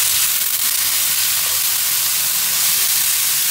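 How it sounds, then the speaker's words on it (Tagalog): Ground meat sautéing in a pan with garlic and onion for a creamy spaghetti sauce, giving a loud, steady, close sizzle that runs unbroken throughout with no voices. "Pagkatapos ay isunod ang ating giniling. Pagkatapos ay igisa kasama ng bawang at sibuyas."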